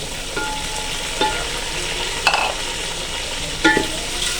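Chicken frying with garlic-ginger paste in a pot for yakhni pulao, a dense continuous sizzle with a few sparse utensil clicks and scrapes, no speech.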